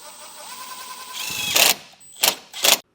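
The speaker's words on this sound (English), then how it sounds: "I'm just going to use the self-tapping screws to secure it to this core support here." A power driver sinks self-tapping screws into a vehicle's core support, its motor whine climbing steadily before three short, harsh bursts of grinding as the screws bite.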